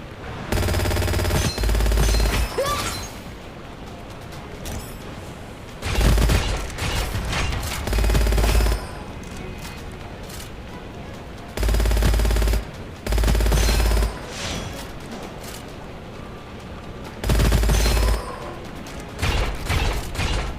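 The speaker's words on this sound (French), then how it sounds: "Il tire par à coup en fait. Donc il tire 3 rafales et puis il fait plus rien." Gunfire Reborn first-person shooter weapon firing in bursts, with loud chattering volleys of about two seconds separated by quieter pauses and mechanical clicks, and no talking.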